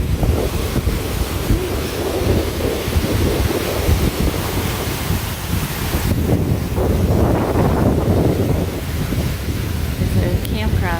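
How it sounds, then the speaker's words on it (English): Strong wind roars across the microphone in a constant, loud rush, blended with the wash of lake water along the shore at Harbor Beach, Michigan. "It's pretty windy."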